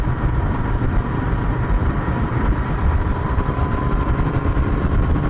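A Royal Enfield Continental GT650, converted from an Interceptor 650, rides along in third gear at low revs, its engine a loud, close, continuous rumble with steady low-end throb and wind noise throughout.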